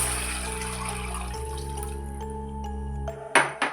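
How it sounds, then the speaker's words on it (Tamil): Rice-washing water poured into a cooking pan of sautéed onions makes a steady, close liquid rush that continues for several seconds, ending in a few brief splashes. "இப்போ வந்து அரிசி கலந்த தண்ணி இதில் சேர்த்துக்கலாம்"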